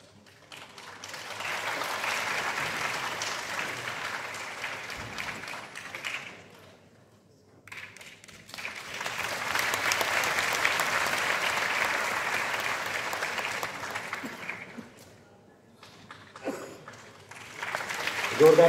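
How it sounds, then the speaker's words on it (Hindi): Audience at a formal ceremony applauds warmly to welcome India's Law and Justice Minister, two long bursts of dense clapping separated by a brief lull, with a third round starting at the end. "जोरदार तालियों से स्वागत"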